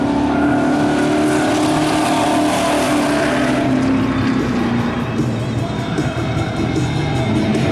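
A Ford truck and a BMW launch down a drag strip at night, their engines roaring loud and steady over a cheering crowd while an announcer talks over the noise.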